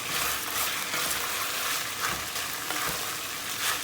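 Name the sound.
stirring tomato paste, peppers and tomatoes in a pan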